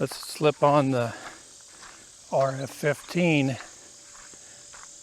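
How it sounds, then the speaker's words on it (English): A faint, steady high-pitched drone of cicadas runs throughout, behind someone speaking a short phrase in bursts. "You can hear the cicadas in the background there."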